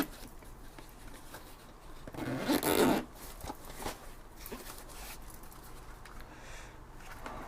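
A zipper is pulled open on a DJI Mavic Air carrying bag, one loud close rasping run lasting about a second, followed by faint handling rustles in a quiet room.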